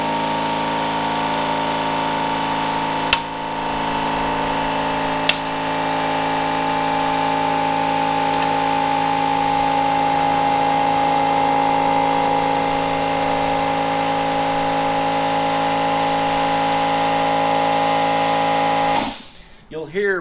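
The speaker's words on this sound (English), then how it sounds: "open the valve fully of the air to the air compressor, and fill the tire up" An air compressor fills a bicycle tire on a Fulcrum Zero two-way wheel, a steady close hum and hiss broken by a couple of sharp pops early on, then a scuffling disturbance at the end.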